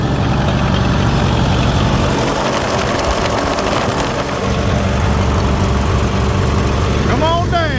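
A Massey Ferguson 85 tractor engine runs loud and steady just after its first start, a constant heavy rumble throughout with no pauses.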